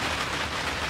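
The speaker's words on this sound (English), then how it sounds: "even though it's raining" Steady rain falling outdoors at a garden greenhouse, a dense even hiss of drops throughout, fairly loud with no other sounds.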